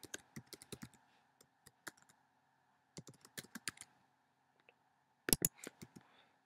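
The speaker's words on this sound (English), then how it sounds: "Not doing so well typing today." Typing on a computer keyboard while building a Google Forms quiz, quiet irregular clicks in short bursts with pauses between and a louder flurry of keystrokes near the end.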